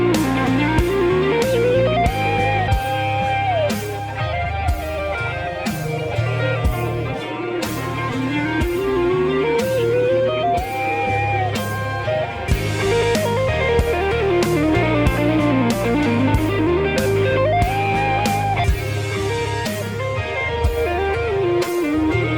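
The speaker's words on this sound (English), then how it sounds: "asked me to break down a couple of licks from my Trying to Rock a Kemper video." Electric guitar pentatonic licks played through a Kemper, with bending, sliding phrases over a full, continuous rock backing track with drums.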